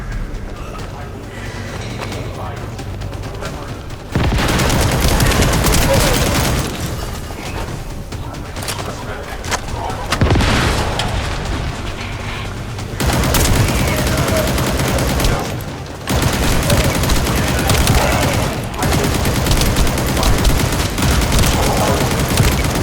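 Sustained turret gunfire in The First Descendant roars loud and dense almost throughout, with rattling bursts that swell and drop in intensity between short pauses.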